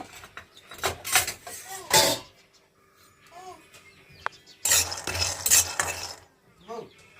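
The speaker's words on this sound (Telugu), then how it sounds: "ఈ పల్లీలు అయితే కొంచెం లైట్ బ్రౌన్ కలర్ వచ్చినాకైతే ఇది ఫ్రై చేసి తీసుకోవాలి" Peanuts fry in oil and are stirred in a pan, making bursts of close scraping and rattling against the pan with a light sizzle between strokes, and brief pauses in between.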